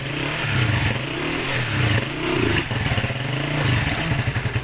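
A motorcycle engine fitted with a CDI ignition conversion runs close by and loud, revving and dropping back repeatedly in a continuous rough drone.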